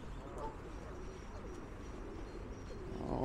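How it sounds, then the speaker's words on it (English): Pigeons coo softly beside a park pond in Yardley Wood, Birmingham, low repeated calls faint under steady outdoor background noise. "Loads of pigeons."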